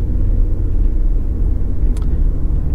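A 1998 Volkswagen Passat 2.3 VR5 with Tiptronic transmission runs with a steady, deep engine rumble, continuous and close, with a faint brief click near the end.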